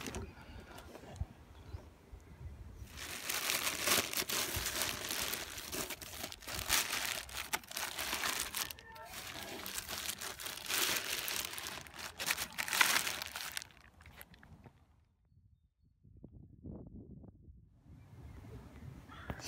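Plastic wrapping being crinkled and pulled on a Tubetown amp head cabinet, loud close rustling and crackling for several seconds, then a brief near-silence followed by softer handling noise.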